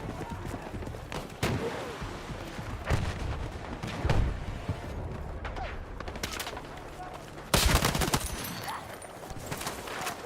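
Gunfire in the shooter game Battlefield 6, with scattered shots and bursts across a noisy battlefield bed and a loud close crack near the end, while voices speak over the action.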